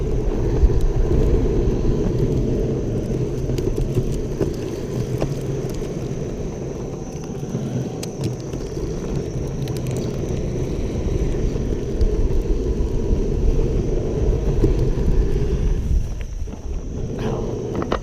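A MEEPO electric skateboard rolls across grass, giving a steady, close low rumble and wheel noise that runs unbroken the whole way, with brief shifts toward the end.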